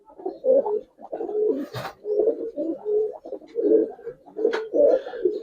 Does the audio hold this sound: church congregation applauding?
no